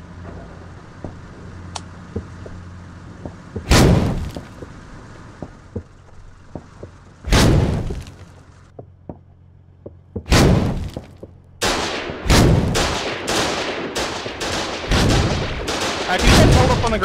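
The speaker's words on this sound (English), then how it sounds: "Can you guys hold up on the grenades real quick?" Grenade explosions go off in the war video game Foxhole: several loud, sharp blasts stand out above a low battlefield rumble, spaced apart at first and then coming in a rapid, dense cluster near the end.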